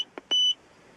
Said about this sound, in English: I'll keep the beep on because, you know, status beep